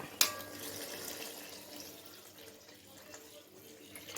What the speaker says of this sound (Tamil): ஒரு ஒரு டம்ளர் ரவைக்கு நாலு டம்ளரு தண்ணி அளந்து வச்சுருக்கிறேன் அதை வந்து நான் ஊற்றிக்கிறேன்